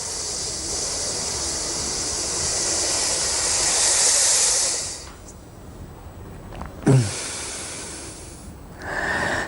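A long, steady hissing breath drawn in through the teeth with lips open for about five seconds during a yoga breathing exercise, then a pause and a short exhale-like rush.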